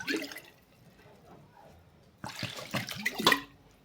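Hot water poured onto couscous semolina during the second steaming, a brief trickle followed by a louder splashing pour close by, without talking.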